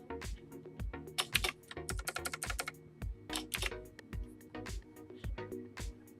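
Rapid clattering keystrokes on a computer keyboard, close and fairly loud, coming in irregular bursts with brief pauses between runs of typing.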